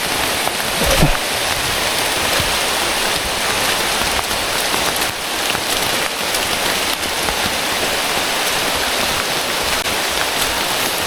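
Heavy rain pours steadily on a forested mountain trail, a dense, even hiss of drops close by that never lets up, with no voices heard.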